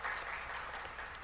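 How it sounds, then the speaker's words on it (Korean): Church congregation applauding to welcome a returning deacon back to the sanctuary, a steady dense wash of clapping that holds at an even level throughout the short moment. "힘찬 박수로 한번 환영하겠습니다"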